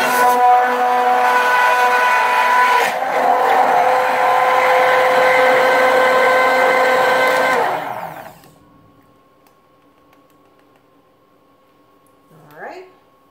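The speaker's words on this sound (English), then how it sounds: "When I'm doing a bunch of eggs like this, I like to use my immersion blender." An immersion blender whirs loudly and steadily through a batch of eggs for a sausage and kale quiche, its motor shifting pitch slightly before cutting off, leaving a quiet kitchen with a faint hum.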